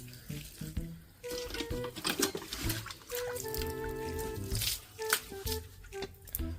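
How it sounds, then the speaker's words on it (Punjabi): Running water from a motor pump splashes against a metal wok as it is scrubbed, with clanks, scrapes and uneven bursts of flow close by. "ਮੋਟਰ ਤੇ ਪਾਣੀ ਪਈ ਜਾਂਦਾ ਕੜਾਈ ਧੋ ਲਈ"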